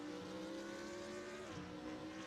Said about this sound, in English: I forgot what the Z4 engine sounds like